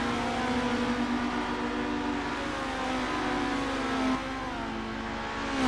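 Race cars in the Assetto Corsa video game at Kyalami in a formula championship give a continuous engine whine with shifting pitch, steady and moderately loud, dipping briefly as gears change.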